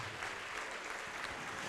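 Congregation applauding in a church service, a brief, fairly faint and distant wash of steady clapping.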